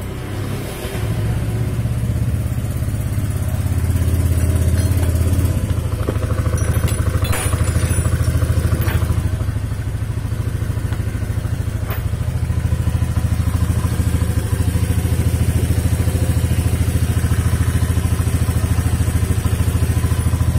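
A Honda Vario 125 motor scooter engine runs loud and close during a test after repair, a steady rumbling idle with a few brief revs and clattering mechanical noise, no talking.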